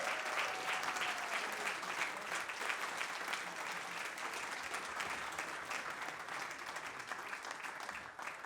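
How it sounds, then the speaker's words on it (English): A live concert audience at Fur Peace Ranch claps steadily and densely, with a sustained wash of applause and faint crowd noise throughout. "If y'all clap enough"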